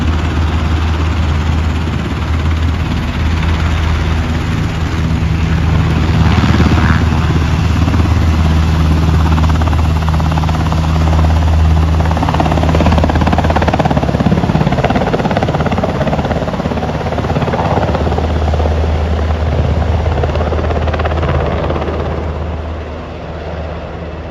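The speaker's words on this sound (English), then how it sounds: "They actually landed helicopters" A steady, heavy engine drone with a low rumbling thump runs throughout, like a helicopter idling or hovering nearby, loud and continuous without any voices.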